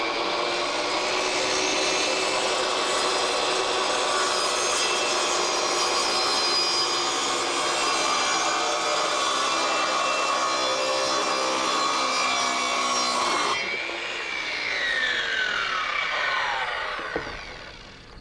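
A power saw cutting wood whines loudly and steadily at close range for more than ten seconds, then the pitch drops as the blade spins down and slows to a stop.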